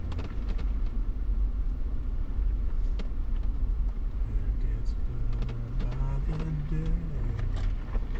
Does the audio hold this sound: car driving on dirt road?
yes